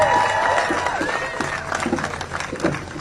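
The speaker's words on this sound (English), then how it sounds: "Let's hear another round of applause for Ray, Avinash, and Victor." A marching crowd of Harvard students and faculty claps and cheers, the applause fading from a loud burst into scattered claps and whoops.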